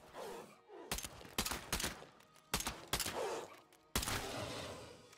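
Gunfire in State of Decay 2, played solo in a lethal zone, rings out as a string of sharp, irregular shots, some in quick pairs and bursts, with a quiet background between them.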